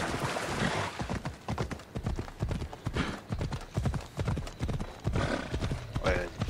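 Horse hooves clip-clopping in a fast, steady rhythm in Assassin's Creed Odyssey, loud and close, with the occasional whinny and someone talking over the hoofbeats throughout.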